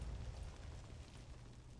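Bombs going off against base foundations during a video game raid, a very faint, low rumbling blast and its dull booming tail, continuous and muffled throughout.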